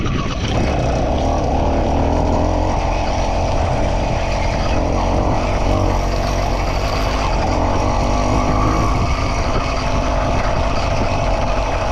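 A 100cc two-stroke bicycle engine revs high and loud, a continuous buzzing whine held at a strained pitch, close to the listener.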